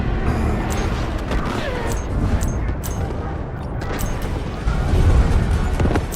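An artillery barrage in the Delta Force shooter rumbles as a continuous roll of booms and distant blasts, swelling heavier toward the end, with faint combat chatter buried beneath.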